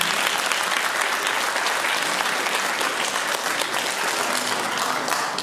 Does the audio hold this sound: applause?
yes